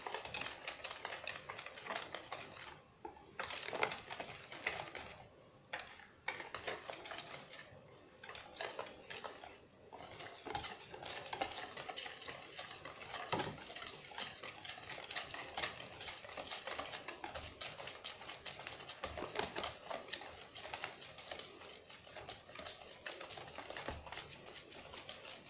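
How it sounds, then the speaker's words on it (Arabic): A spoon or whisk stirs pancake batter containing salt, vanilla and baking powder in a bowl, giving soft, quiet, rapid tapping and scraping clatter that continues steadily throughout, with no talk. "نقلب كده حلو."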